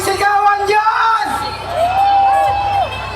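A rally crowd at a night gathering shouts and cheers together in a loud, sustained roar, with rising whoops and yells swelling up close for a few seconds.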